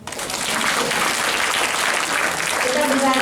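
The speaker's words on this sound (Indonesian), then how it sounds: "Tepuk tangan dong." Audience at an academic oration in Indonesia breaks into steady, dense applause that holds through the clip, with some voices mixed in near the end.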